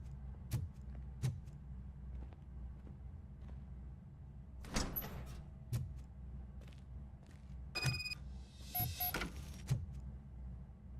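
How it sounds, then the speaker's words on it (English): A door opens with a series of sharp clicks and knocks, then louder rattling mechanical bursts partway through and again near the end, over a steady low hum with no talking. "Now let me get that door open for you."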